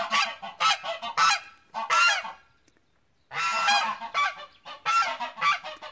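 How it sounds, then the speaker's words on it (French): Loud geese, including a gander, honk in repeated clustered bursts, close by, with a brief quiet gap in the middle before the honking resumes. "Je ne supporte plus les oies."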